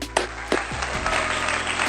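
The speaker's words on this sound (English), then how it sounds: "give this woman a huge round of applause" A brief burst of dense audience applause at a live speaking event, with a few louder claps standing out near the start.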